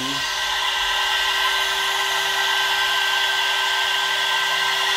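A CNC spindle runs at 24,000 RPM with a steady, high-pitched whine and constant airy rush, close and unchanging throughout.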